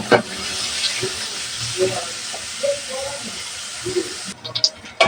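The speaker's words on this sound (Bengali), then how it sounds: "পেঁয়াজটা আমি ভালোভাবে ভেজে নেব" Chopped onions with four chilies sizzle in hot oil in a pan, a steady close hiss lasting several seconds with faint thuds underneath before it cuts off near the end.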